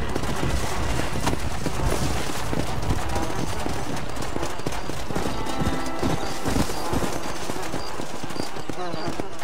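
Galloping horse hooves in the Red Dead Redemption: Undead Nightmare video game, rapid clip-clop mixed with bursts of gunfire and a horse whinny, a busy, continuous game soundtrack.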